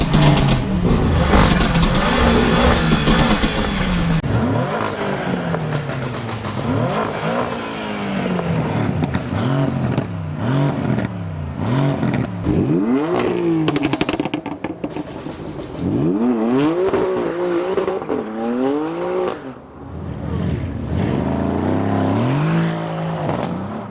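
Modified cars at a busy city car meet, including a BMW doing burnouts, rev hard in repeated rising and falling bursts, loud and close, with engines overlapping continuously throughout.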